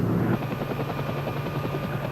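An army helicopter drones close and loud, its rotor throbbing steadily as a dense, unbroken roar with no speech.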